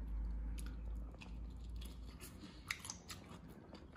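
Someone chews a large sea snail cooked with its ink in quiet, close-up bites, with soft squishy mastication and a few sharper crunches toward the end.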